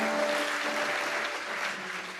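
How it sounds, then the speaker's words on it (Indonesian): Church congregation applauding during a Sunday evening service, a dense, loud burst of clapping from many hands sustained throughout. "Kasih tepuk tangan buat jangan nanggung."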